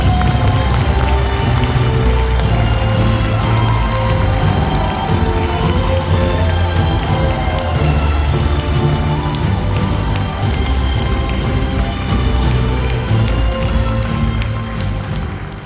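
Audience in a convention center grand ballroom at a book concert applauding and cheering as a speaker is welcomed onto the stage, a dense sustained wash of clapping and crowd noise with some voices mixed in.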